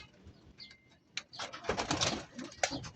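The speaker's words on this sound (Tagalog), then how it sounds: "na-clock din natin yung kalapate" A pigeon gives a few soft, low coos at a racing loft in San Simon, Pampanga, with brief rustling bird sounds nearby and no talking.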